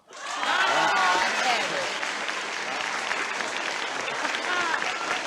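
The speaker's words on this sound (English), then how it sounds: "I've never heard so many people clap to know that they're members of a weird mob." A studio audience claps loudly, the applause swelling quickly to a dense peak and then holding a steady sustained wash of hands.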